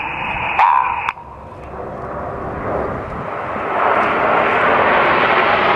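Red Arrows Hawk jets flying in tight formation at an airshow at RAF Duxford: a steady, loud jet roar builds and holds, with a brief high radio-like tone near the start.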